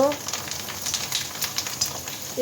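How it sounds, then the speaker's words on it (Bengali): Potato chips fry in hot oil with a continuous dense crackling sizzle, close and fairly loud, with small bursts of popping across the whole stretch and no talking. "এই যে গরম তেলে দিব আর তুলবো।"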